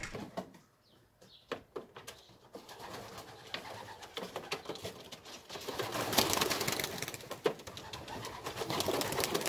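Racing pigeons in a loft coo and shuffle steadily, with wing flutters and a few door-like knocks rising into a dense, close bird chorus.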